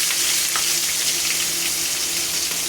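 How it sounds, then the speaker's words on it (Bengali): Chopped onion hitting hot oil in a pot of frying chicken with chillies, a steady, dense sizzle that holds evenly throughout with faint scraping clicks, close and loud, no talking. "তারপর দিয়ে দেবো এর মধ্যে কুচনো পেঁয়াজ"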